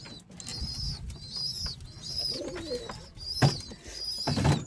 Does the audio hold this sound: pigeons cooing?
yes